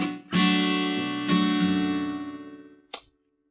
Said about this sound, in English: we can actually trigger the palm mute mode right when we are playing that root note